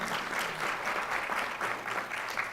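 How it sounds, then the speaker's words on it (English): Dense, steady applause from an audience at a school board of education meeting honoring student athletes, filling the short stretch alone without speech. "round of applause."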